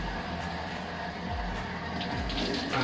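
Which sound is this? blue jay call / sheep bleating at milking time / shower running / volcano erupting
shower running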